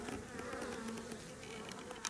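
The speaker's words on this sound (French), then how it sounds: "Pourtant, la ruche est active, on voit les abeilles à l'entrée." Honeybees buzz at the entrance of an active hive on a cool day, a close, continuous droning hum with faint overlapping wingbeats and no voices.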